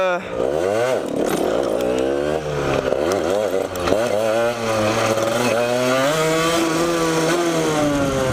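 A motorcycle engine revs hard and steadily during a wheelie, its pitch rising and falling through gear changes and throttle swells, loud and close throughout with no talk.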